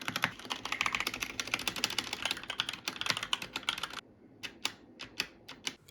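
Rapid typing on a modded $22 Temu mechanical keyboard, crisp close-up keystrokes in a fast continuous run, then a few slower, separated clacks after a short pause.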